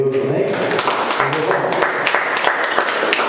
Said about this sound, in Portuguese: E que as palmas louvem a Deus, amém.